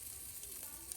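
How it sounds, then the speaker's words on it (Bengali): Panch phoron five-spice sizzles in hot oil, a brief, soft, steady hiss and crackle heard up close. "একটা পাঁচফোড়ন দিয়ে দিচ্ছি"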